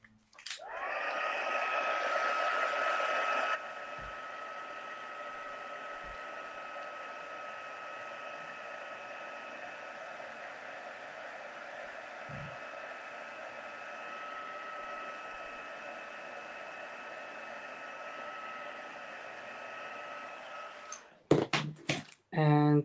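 A hair dryer blows a steady whine and rush over a black base coat on a chest, running loud and continuous before clicking off, with handling noises at the end.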